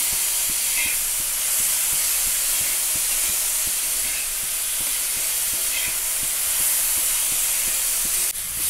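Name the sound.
ridge gourd roasting in oil in a pan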